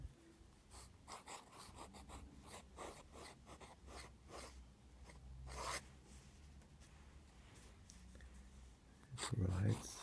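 Calligraphy pen with a 1.4 nib scratching across paper in short rhythmic strokes, faint and close, with breathing and a soft rustle near the end.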